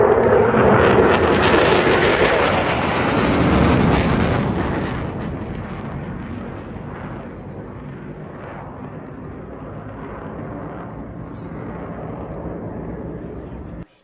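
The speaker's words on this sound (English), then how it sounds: "Kind of a fun time there with that flyover" Aircraft flyover above an outdoor track and field meet, a loud roaring rumble that builds in the opening seconds, then recedes into a long, fading wash of engine noise.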